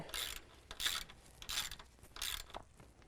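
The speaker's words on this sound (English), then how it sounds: "Hit it with our 10 mil socket." A 10 mm socket on a ratchet tightening a bolt during an alternator upgrade, four quick bursts of clicking ratcheting spaced about 0.7 seconds apart, close and fairly quiet.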